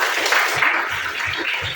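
Classroom applause from students, a brief burst of steady clapping with a few louder claps standing out, fairly close and without speech over it.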